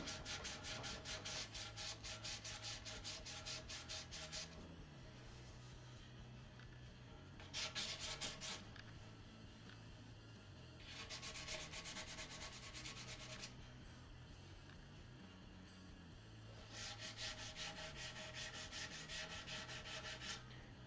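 Fine hand sanding on a guitar top, with fingers pressing abrasive paper over the wood in four distinct rubbing bursts separated by pauses, close and quiet, with no talk.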